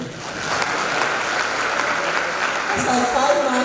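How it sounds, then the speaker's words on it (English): Audience at a university law faculty public lecture claps continuously, a dense even patter that swells slightly toward the end, with a voice speaking over it. "Oh, your own Dean, you clap for him."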